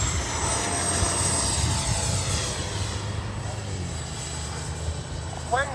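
A Flyfans olive camo L-39 64mm EDF radio-controlled jet flies overhead and comes in to land, a steady whooshing ducted-fan roar at moderate distance that persists throughout, with faint voices in the background.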